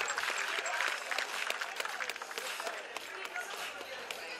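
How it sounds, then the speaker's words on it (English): Crowd applause for the women's top three at the 2018 Manila Open beach volleyball medal ceremony: steady, dense clapping that runs throughout, with some voices mixed in. "a big round of applause for our top three in the Women's Manila Open for 2018"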